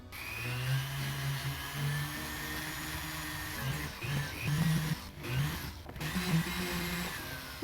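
A rotary tool runs a coarse white silicone polisher over a cast silver pendant, giving a steady mid-level whir with pitch rising and dipping as the bit moves across the metal.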